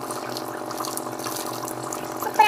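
Water starting to boil in a pot while vathal is being prepared, a steady close bubbling and hissing that runs evenly throughout with no talk.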